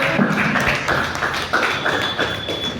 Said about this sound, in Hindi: एक बार भाई उनके लिए जोरदार ताली हो जाए मैडम के लिए।